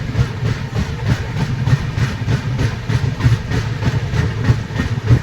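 New Delhi–Malda Town Express rolling into New Farakka Junction at night, a loud, close low rumble with a regular beat of wheel clatter throughout and no speech.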